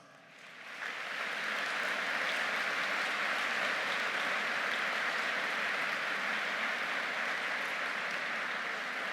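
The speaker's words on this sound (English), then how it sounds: "let's give them a heartfelt applause" Sustained, heartfelt applause from a large audience honouring graduates at a Faculty of Education spring convocation ceremony, rising quickly and holding steady and dense throughout.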